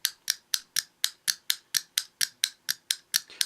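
Plastic fidget cube being clicked, about fourteen sharp, crisp clicks in a quick, even rhythm, close up and clear with nothing else around them.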